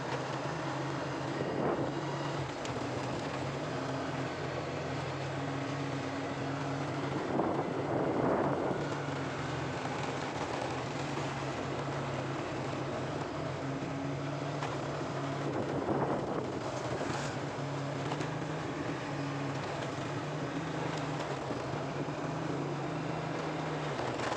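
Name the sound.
riding a motorcycle on a mountain road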